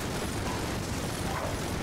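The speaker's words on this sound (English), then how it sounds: "We're firing multiple explosions." Dense, continuous roar of overlapping explosions and mechanical weapon fire in the video game Enter the Gungeon, loud and steady throughout with no clear gaps.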